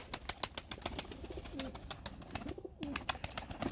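Pigeons in a crowded loft coo softly while being fed, with low warbling calls rising over a busy background of scratching, pecking and rustling.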